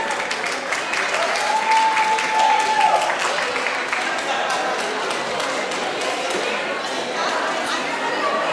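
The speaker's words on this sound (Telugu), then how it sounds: "మన classical juniors team 14 number 1 చప్పట్లు" An audience applauds a classical juniors team at a live event in Boston with dense, sustained clapping that fills the whole stretch, and faint chatter underneath.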